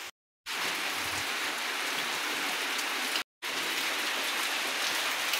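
Steady, heavy rain falls outside a house during a storm, a dense close wash of drops hitting surfaces. It continues without pause except for two brief dropouts, and no one speaks.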